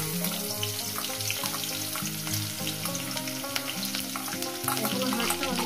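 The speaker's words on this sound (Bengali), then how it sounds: "দিয়ে দেবো এখানে রসুন আর কাঁচা লঙ্কাটা" Garlic, green chillies and dried red chillies crackle in hot oil, a loud, dense, continuous sizzle with soft stirring, while music plays quietly underneath.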